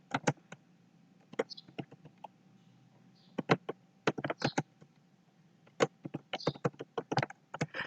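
Keys on a computer keyboard are tapped to enter a macro name in Excel, coming in quick clusters of close, crisp clicks separated by short pauses, with no speech.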